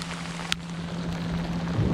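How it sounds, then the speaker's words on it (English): Heavy rain pours steadily around an outdoor crappie fishing spot, a dense continuous hiss with a brief sharp tap or knock partway through and a faint low hum underneath. "It's raining cats and dogs out here."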